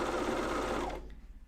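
A coverstitch sewing machine runs steadily while stitching pajama tops, a close, continuous motor whir that stops abruptly near the end, leaving faint mechanical ticks.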